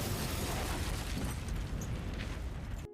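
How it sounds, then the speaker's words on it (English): A cartoon controlled explosion of a suspicious package bursts into a loud, roaring blast that rumbles on for about three seconds before cutting off abruptly. "we're gonna do a controlled explosion"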